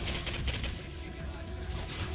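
Dense, continuous gunfire in a first-person shooter game, a steady rumbling barrage of rapid shots filling the whole moment at moderate level with no talk.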